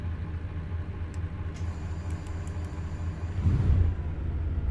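In American Truck Simulator, a heavy haul truck loaded to 188,000 pounds pulls away, its diesel rumbling low and steady before swelling briefly louder near the end, with faint high tones above.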